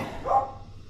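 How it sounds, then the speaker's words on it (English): A single short dog bark rings out in the background of a domestic plumbing job over a leaking stop tap, faint and brief against room noise. "I have to excuse the dogs."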